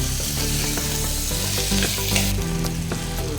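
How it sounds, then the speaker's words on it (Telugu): Vegetable pieces fry in a pan for coconut rice, giving a steady close sizzle with occasional stirring scrapes throughout, no voices. "ఇలాగ బాగా వేయించుకుని"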